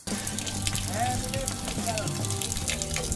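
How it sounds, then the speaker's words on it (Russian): Steady rushing and trickling of water draining out of a tank, continuous and fairly close, with a faint voice briefly in the background. "теперь нам нужно слить воду"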